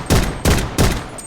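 Bursts of gunfire in the Blood Strike shooter game, three loud volleys about every third of a second, each sharp crack trailing into a short rumble, close and alone.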